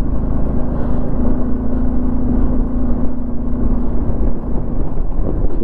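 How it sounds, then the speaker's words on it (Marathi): A motorcycle held in second gear on a rough mountain road drones loudly and steadily at close range, its engine note holding an even pitch throughout with no talk. "मी कंटिन्युअस 2nd गिअरला गाडी चालवत आहे"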